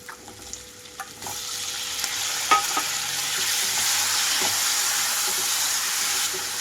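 Chicken pieces fry in a hot pan with slit green chillies for a cucumber chicken curry, a loud continuous sizzle and hiss with a few stirring clicks, close up and with no talking.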